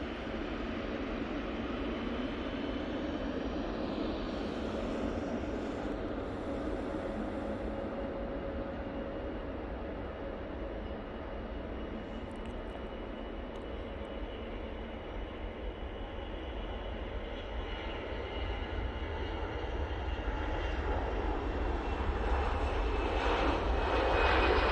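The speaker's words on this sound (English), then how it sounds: "that EasyJet is spooling up" An EasyJet jet airliner spools up and takes off at Manchester Airport, a long continuous engine roar at a distance, steady at first and swelling louder toward the end.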